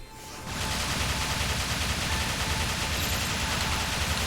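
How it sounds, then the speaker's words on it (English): A Gatling gun firing in Final Fantasy XIII, a dense, continuous rapid-fire roar that starts abruptly and holds loud and steady without a break. "Use your goddamn Gatling gun then."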